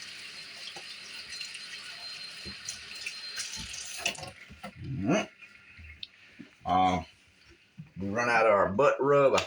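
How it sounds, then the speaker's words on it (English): A kitchen tap runs steadily as hands are rinsed under it, a continuous near hiss of water that drops out partway through; a person speaks over the latter part. "Let me rinse my hands off"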